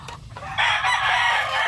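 Large young roosters of the bulik type: a loud, close crow rises and is held strongly across the second half, over a few low clucks at the start.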